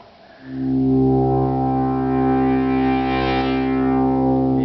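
A steady, buzzy Minimoog analog synthesizer oscillator tone with rich harmonics swells in and holds, slightly shifting in timbre, loud and alone with no talking.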